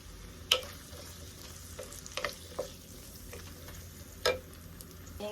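Garlic and onions for a vegetable paella hit a hot pan and sizzle faintly, with a few sharp pops and stirring scrapes over a soft, steady frying hiss.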